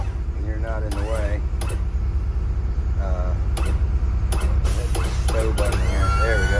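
Wheelchair lift on a 2007 Freightliner handicapped bus being stowed: continuous mechanical whirring and grinding with sharp clicks and clanks near and fairly loud, someone talking over it at times.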